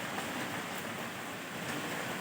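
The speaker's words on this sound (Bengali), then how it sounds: "খুব জোরে ঝড় হচ্ছে, বৃষ্টি হচ্ছে।" Heavy storm with driving rain outside during Cyclone Remal, a dense, steady roar of wind and rainfall that holds constant throughout without letting up.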